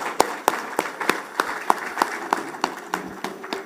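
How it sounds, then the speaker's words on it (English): A seminar audience at the 2023 Zenith Bank International Trade Seminar claps in a slow, steady rhythm, individual claps sharp and distinct, repeating about three times per second throughout. "A round of applause for yourselves."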